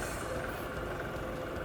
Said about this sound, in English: Let's start the tractor.